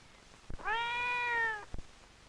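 A single clear, drawn-out meow from a 5-week-old kitten, close and fairly loud, framed by faint thumps before and after.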